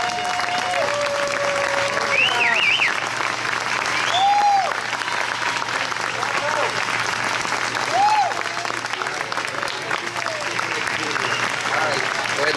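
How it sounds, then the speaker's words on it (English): A seated audience at a class dinner breaks into sustained applause and a standing ovation, steady dense clapping with a few whistles and cheers scattered through, loud and close for the full stretch. "Please give them a round of applause and a standing ovation"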